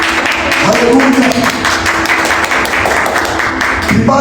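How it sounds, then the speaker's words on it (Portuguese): A church congregation applauds in a broad, steady wash of clapping that lasts the whole stretch, with a voice or music tones running underneath. "Será que você pode aplaudir ao Senhor por essa palavra?"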